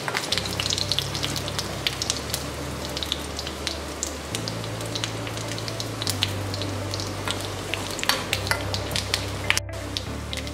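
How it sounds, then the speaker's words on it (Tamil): Onions and chillies sauté in a pan for coconut chutney, crackling in a dense close sizzle with frequent sharp pops and spatula scrapes, and a low hum shifting underneath. "இந்த வெங்காயம் நல்லா பொன்னிறமாக வதங்கணும்."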